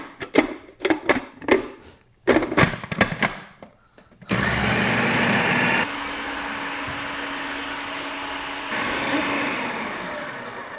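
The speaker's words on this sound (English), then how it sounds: "So I'm gonna puree some so it's nice and like creamy" A countertop blender pureeing cottage cheese, starting after a few close clatters and taps, then running as a steady loud whir that shifts pitch partway through and keeps going to the end.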